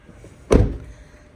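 A Toyota Innova Crysta 2.4G automatic diesel car door is shut, giving one close, solid thunk that fades quickly against a quiet background.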